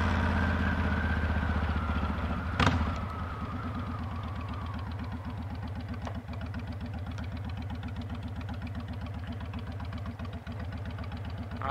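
Honda VTX 1300 motorcycle idling in the cold, a steady close, loud low-pitched thumping with one sharp click early on.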